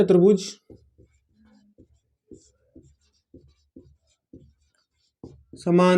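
A question is written on a board during a maths lesson on quadrilaterals: a series of soft, evenly spaced taps and scratches of the pen or chalk. Someone speaks briefly before and after the writing.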